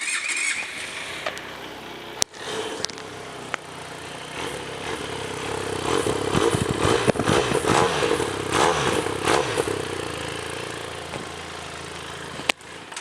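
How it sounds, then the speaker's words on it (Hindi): A Benelli TRK 502 motorcycle engine rumbles steadily and is revved, its exhaust note swelling loud through the middle with sharp clicks at the start and end. "मैं आप मन बर लाया हूँ TRK बेनेली के 502। एक मैं आप मन ला एग्जॉस्ट नोट सुनाना चाहता हूँ"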